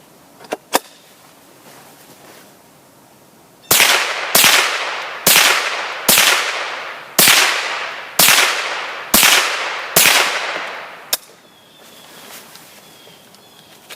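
Eight sharp gunshots from a Henry AR7 survival rifle firing plain lead round-nose .22 bullets, spaced at a steady semi-automatic rhythm about every second, loud and close, with a couple of isolated shots or clicks before and after.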